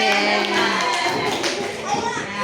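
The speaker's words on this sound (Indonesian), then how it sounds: "Kasih tepuk tangan buat teman kita yang sudah" An elementary school class of children clapping their hands together in a classroom, a brief burst of busy clapping under a teacher's voice.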